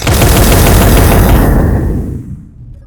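A twin missile launcher fires in Space Engineers, producing a dense, loud burst of rapid gunfire-like blasts that roars for about a second and a half before fading into a rumbling decay.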